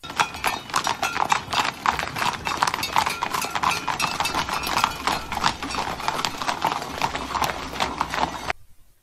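Rapid, continuous hoof clip-clops, a horse trotting on a hard surface, close and steady until it cuts off near the end.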